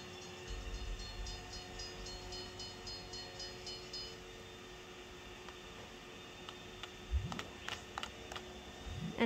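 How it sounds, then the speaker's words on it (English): Train in a Roblox game rolling along the tracks, a faint steady mechanical hum with a short run of rhythmic clicks early on and a few louder swooping bursts near the end. "Oh, there's a train right there."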